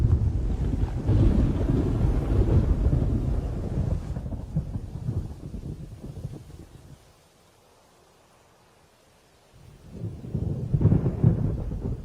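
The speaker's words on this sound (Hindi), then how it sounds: "बारिश होने वाली है" Heavy rain and rumbling thunder roll in loud, broadband waves, with gusting wind buffeting the microphone, drop to near silence midway, then surge back up at the end.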